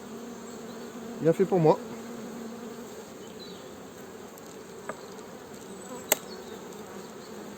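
Honeybees buzz steadily around an opened Mini-Plus hive during a winter check, a soft continuous hum with a brief spoken phrase near the start and a couple of faint clicks.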